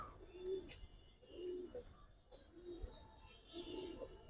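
A pair of Giribaz pigeons coos softly and faintly in repeated low calls, about one each second, against a quiet background.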